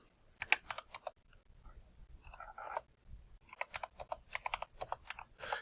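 Values typed into a graphing calculator, with quick bursts of small plastic key clicks in short clustered runs, close and clear, and no talking.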